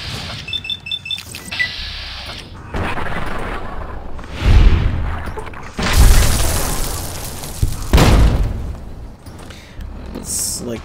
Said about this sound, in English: these ants, they like explode when you